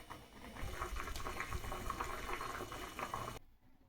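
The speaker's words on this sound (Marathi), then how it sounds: "शेंगा अर्धवट शिजेपर्यंत वाफवून घेऊ" Bean pods steaming in a covered pot on the stove, a steady close bubbling and hissing boil with small pops throughout, cutting off abruptly near the end.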